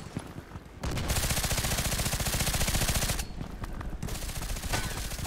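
Rapid automatic fire from an HK G36C rifle in the shooter game Contract Wars, a sustained close burst of evenly spaced shots lasting a few seconds, a short pause, then another burst.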